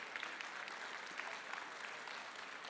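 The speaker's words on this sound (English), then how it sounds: "Please give them an applause." An audience at an educators' summit applauds teachers with over 30 years of service: sustained, even clapping from a large crowd, somewhat distant and quiet, with no talk over it.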